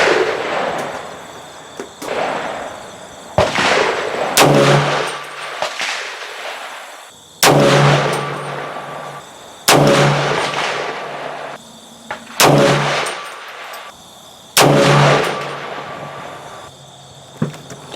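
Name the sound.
300 Blackout rifle firing 110gr hunting loads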